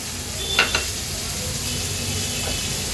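Chopped kantola (spiny gourd) goes into a pan of masala already cooking in oil, raising a loud, steady, close sizzle with a couple of sharp clinks early on and hissing that carries on throughout.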